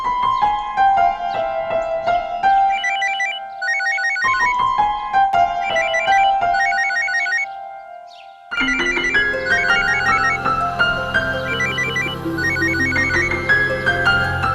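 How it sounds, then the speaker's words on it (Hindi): A telephone ringtone plays as someone places a call, a loud melodic tone repeating in phrases that pause briefly, then fuller music swells in over the last stretch. "एक काम करती हूँ, नील को फोन लगाते हैं, वही बताएगा कि हुआ क्या था।"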